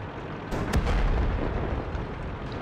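Explosions and artillery-like blasts in the tank battle video game World of Tanks, a sudden loud boom followed by a dense rumbling roar that stays heavy to the end, with no talk over it.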